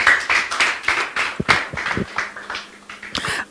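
A small audience at a debate-style event claps in an irregular, loud burst of separate, sharp hand claps close by, with uneven spacing between hits rather than a smooth roar.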